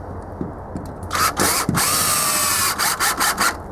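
A power drill drives a screw into a pre-drilled hole in wood for storage shelves in a shipping container: a close, loud whirring run of about two seconds that ends in several short stuttering bursts, with no talk.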